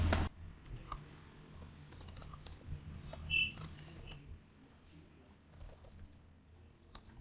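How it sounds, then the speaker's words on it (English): Faint, scattered keystrokes from a computer keyboard, with a brief louder click at the start and light tapping that thins out toward the end. "I am going to type frame over here."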